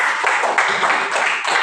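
A school class claps hands together during a lesson, with brief dense clapping from many children at close range.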